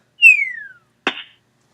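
A descending whistle-like swoop followed by a short, wet splat impact, brief and close, then silence.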